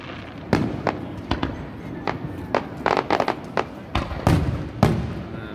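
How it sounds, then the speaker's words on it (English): Fireworks bursting at a distance on the Fourth of July, a dozen or so sharp cracks and thuds in irregular succession over steady outdoor background noise. "Some fireworks going on over there."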